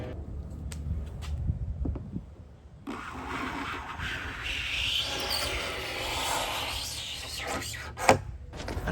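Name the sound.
scraping finish off a wooden tabletop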